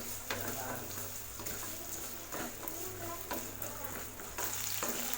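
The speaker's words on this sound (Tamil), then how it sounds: "வெங்காயத்தை நல்லா வதக்கி விடலாம்." Small onions sauté in a pan for an onion kara kulambu curry, making a continuous close sizzle with occasional stirring scrapes. No one speaks over it.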